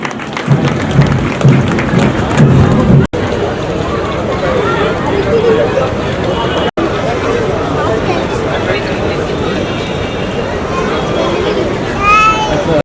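Crowd applause at an Independence Day police parade at a district police lines ground, a sustained clapping wash with murmuring voices and someone speaking over it through a loudspeaker.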